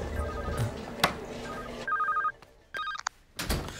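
A telephone rings in a Telugu movie scene from Cheekati Rajyam. Two short electronic ring bursts follow background score and thuds, and they sound clear and fairly close.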